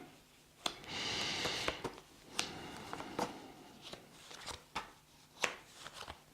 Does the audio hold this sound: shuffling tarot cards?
yes